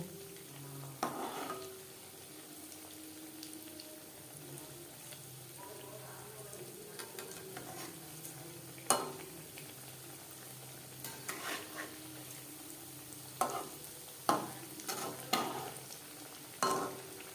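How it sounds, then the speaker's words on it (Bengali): Vegetable chops deep-frying in hot oil as they are turned, a steady low sizzle broken by several sharp clatters and stirring bursts from the utensil, close and moderately loud. "উল্টে পাল্টে ক্রিস্পি করে ভেজে নেবো"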